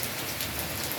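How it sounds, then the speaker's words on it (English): Heavy rain pours steadily in strong wind, a dense even hiss of drops beating on surfaces with no breaks. "Look at it, it's raining"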